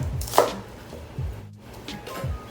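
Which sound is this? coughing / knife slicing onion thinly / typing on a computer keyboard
knife slicing onion thinly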